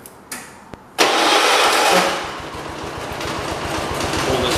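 A John Deere 216 lawn tractor engine cranks and catches after a few sharp clicks, then settles into a loud, steady, rhythmic running chug that holds to the end.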